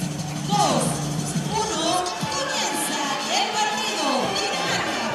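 A crowd at a beach soccer match in El Salvador keeps up a constant roar of shouting and cheering, with excited voices rising above the din throughout.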